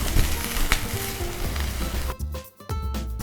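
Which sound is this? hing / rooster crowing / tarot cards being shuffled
hing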